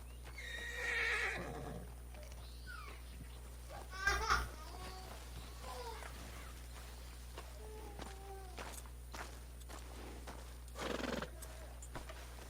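A horse in Red Dead Redemption 2 whinnies and snorts in short bursts, with soft hoof clip-clops and brief spoken voices scattered between the calls.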